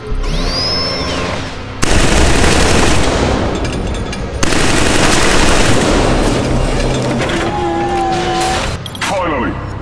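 Killzone 3 gunfire from behind cover: rapid bursts of automatic fire crackle loudly in two long volleys, with a voice speaking over the shooting.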